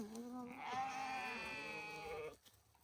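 A sheep in a migrating flock gives one long quavering bleat, fairly faint and close, ending abruptly into quiet.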